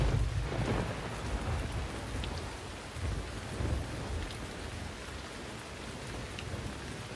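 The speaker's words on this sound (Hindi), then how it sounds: "बारिश शुरू हो गई है, आप भी शुरू हो जाइए।" Steady heavy rain pours down in a thunderstorm, with low rolling thunder swelling and fading beneath the constant hiss of the downpour, and no voices.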